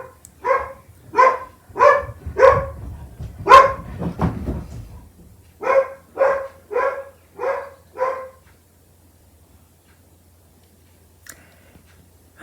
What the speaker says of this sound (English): and that's Bella the dog